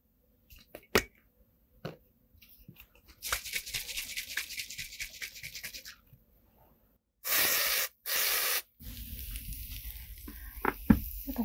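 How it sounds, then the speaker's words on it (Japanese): Carbonated spray hisses onto the scalp during a dry head spa treatment, coming as a few steady close bursts of airy hissing separated by quiet gaps, with light handling noises and no talking. "最初に炭酸スプレーからさせていただきますね"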